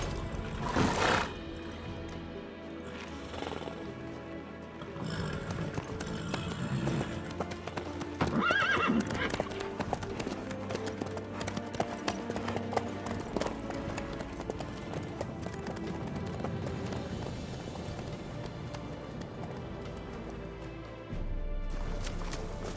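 Horse hooves in The Witcher 3 keep up a steady clip-clop across a long stretch, with occasional neighs and whinnies on top and a dense game soundscape underneath.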